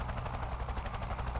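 A patrolling helicopter in the video game Delta Force 2 thrums with a steady, pulsing rotor beat, loud and continuous for a moment without any speech.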